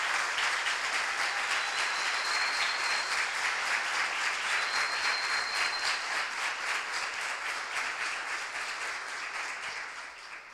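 A symposium audience of social work students and guests gives a sustained round of applause, dense steady clapping that fills the room for about ten seconds, gradually thinning and fading toward the end.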